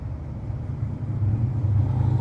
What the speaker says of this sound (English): Motorbike, Grace.